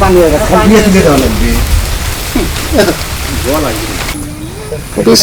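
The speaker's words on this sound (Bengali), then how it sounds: "বৃষ্টি" Steady rain pours in a village, a dense continuous hiss that runs the whole time beneath loud, close voices talking.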